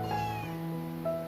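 A cat meows outdoors, one clear, drawn-out call that rises and falls, then a short second cry begins near the end, fairly quiet and nearby.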